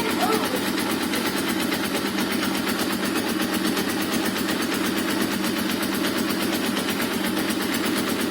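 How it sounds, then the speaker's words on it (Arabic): A steady, even idle of a brand-new motorcycle engine being broken in runs throughout with a constant fine rattling texture, unchanging in level, no voices over it. "خلاص انت دورت كده الموتور اهوت"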